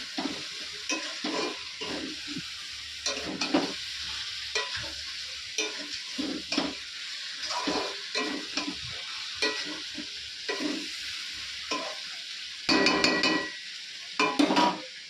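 Spices and potatoes are stir-fried in a pan, giving a steady sizzle broken by repeated scraping strokes of a spatula, close and moderately loud without talk.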